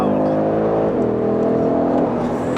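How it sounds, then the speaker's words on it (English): A five-cylinder car engine in dynamic mode with an OPF fitted, revving up as a loud, steady, muted droning growl that climbs in pitch, heard from close by. "You can't beat the sound of a 5-pot"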